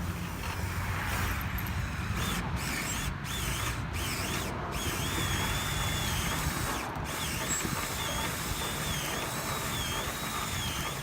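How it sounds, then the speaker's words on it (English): A cordless drill, rigged to load a riding lawnmower onto a trailer, grinds continuously with a ratcheting mechanical drone, its pitch wavering slightly, and a few brief interruptions in the high whine. "I can get it to load this riding lawnmower just by using this cordless drill"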